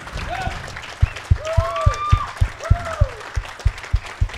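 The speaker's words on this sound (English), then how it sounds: "How about a round of applause" An audience claps for military veterans at a college of auctioneering class auction, with sharp, regular claps in a steady rhythm and voices calling out over them.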